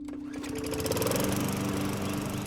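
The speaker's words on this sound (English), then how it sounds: "Nick was outside mowing the lawn" A lawn mower drones steadily while cutting grass on a fall afternoon, its engine hum close and continuous with a buzzy, slightly fluctuating tone and no voices.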